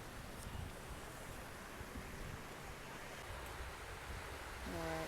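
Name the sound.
calm sea water at a bathing beach in Adelaide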